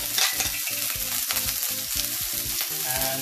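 A spoon stirs potato vada filling with coriander, turmeric and salt in a frying pan, giving repeated scraping strokes over a steady close sizzle, no voices.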